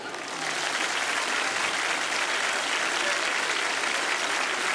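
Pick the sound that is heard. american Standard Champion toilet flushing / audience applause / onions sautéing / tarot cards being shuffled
audience applause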